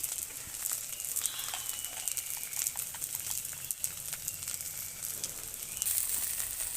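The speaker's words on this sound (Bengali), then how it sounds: "এবারে স্বাদ মতন লবণ দিয়ে একটু ভালো করে ভেজে নামিয়ে নেব।" Onion, roasted garlic and dried chilli frying with salt in a pan give off a soft, steady sizzle and crackle that runs evenly throughout, with no talking.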